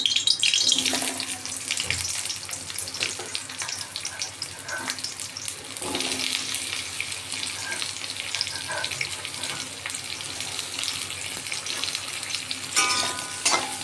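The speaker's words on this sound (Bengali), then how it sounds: "পেঁয়াজগুলো বেশি ভাজা যাবে না সামান্য করে একটু যখনই নরম হবে" Chopped onions fry in a pan for egg korma, giving a steady, close hiss of sizzling oil with brief stirring scrapes and clatters throughout.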